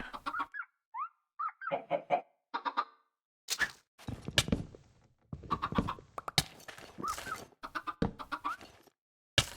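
Minecraft chickens in a coop cluck in short, choppy bursts that come close together and fill the whole span, with a few sharper, louder squawks later on.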